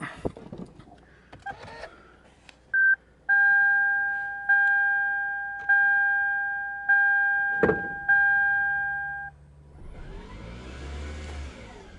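A 2007 Toyota Camry engine cranks and starts, coming in near the end after a series of steady electronic chimes, then holding a low rumbling idle close by.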